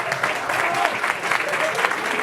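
Steady audience applause at a university lecture event in Tepotzotlán, a dense even clapping from a sizable crowd, fairly close and continuous with no break for the full stretch.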